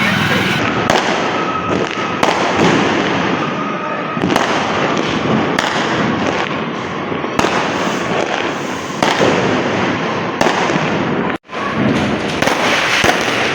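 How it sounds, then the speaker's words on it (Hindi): Diwali firecrackers burst one after another in a dense, crackling barrage of sharp pops and bangs, loud and close, while people talk beneath the noise. "अब दूसरा फोड़ते, दूसरा फोड़।"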